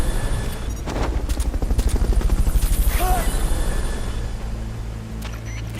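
Rapid rhythmic rotor chop from the Fulton recovery helicopter in Metal Gear Solid Peace Walker, close and continuous, with scattered game effects and a short voice-like blip over it.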